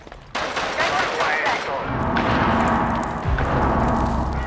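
Rainbow Six Siege gunfire erupts in rapid bursts of sharp shots over dense background noise, sustained for several seconds, with Turkish-speaking players talking over it.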